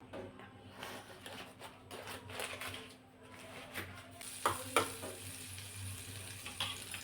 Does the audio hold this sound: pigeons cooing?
no